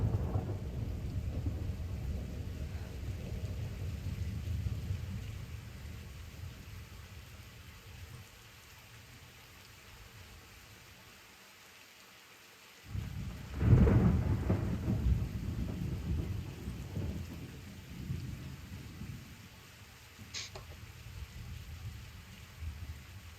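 Steady rain hisses throughout a stormy scene in the video game Kingdom Come: Deliverance, with a loud rumbling thunderclap rolling in midway and fading slowly back into the rain.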